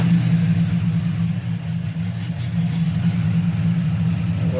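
A Chevrolet Silverado V8 with an aftermarket BTR camshaft idles steadily and loudly up close, a deep continuous rumble with a slightly uneven, loping rhythm and no voices.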